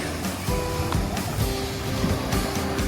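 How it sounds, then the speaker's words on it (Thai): Waves and surf on the sea at Pattaya with a boat out on the water, a steady loud wash of water and low motor-like rumble throughout, with no talking. "อ้าวมีเรือด้วย"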